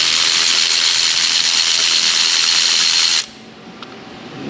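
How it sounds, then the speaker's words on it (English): A ratchet fitted with an extra-long spark plug socket works a spark plug loose on a supercharged 5.0 V8 Land Rover Range Rover, giving a loud, dense buzzing rattle that cuts off abruptly, leaving a quiet room with a faint tick. "I get to use my super duper extra long spark plug socket"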